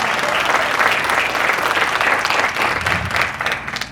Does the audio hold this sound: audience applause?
yes